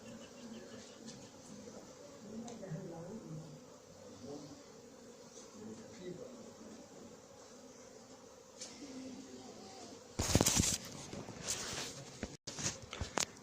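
Honeybees buzz in a low, continuous drone while a swarm is gathered into a cardboard box in Fontenay-sous-Bois. Handling noises and scraping come in, with louder rustling bursts near the end.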